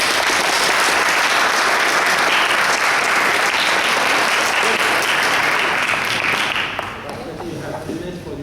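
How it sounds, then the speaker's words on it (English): Loud sustained applause from an audience at a Toastmasters club debate, dense rapid clapping filling the room evenly before thinning out and fading over the last couple of seconds. "please join me in offering your support for our resolution by clapping at this"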